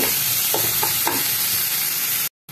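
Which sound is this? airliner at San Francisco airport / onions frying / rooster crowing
onions frying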